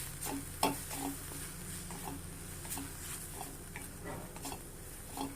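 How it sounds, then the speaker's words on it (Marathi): Spices with asafoetida and sambar masala are stirred and fried in a pan as a tempering for dal, giving a steady low sizzle under scattered scraping and tapping from the spoon. "आणि हे मसाले 1 मिनिटभर असे परतून घेऊया"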